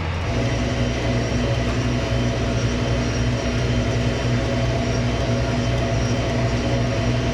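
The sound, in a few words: tractor driving on the road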